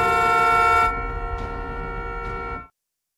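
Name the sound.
truck horn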